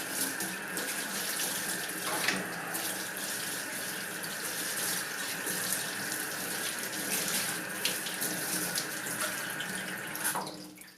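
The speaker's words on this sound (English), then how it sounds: "I'm just going to give it a quick rinse" Steady water from a tap runs continuously, close and moderately loud, while a fish skin is rinsed, with faint clinks and splashes over the flow and a brief knock near the end.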